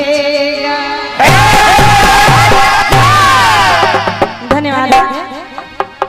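A crowd at a devotional jawabi kirtan music session erupts in loud, sustained cheering and shouting that rises sharply and then tapers into scattered whoops and claps near the end.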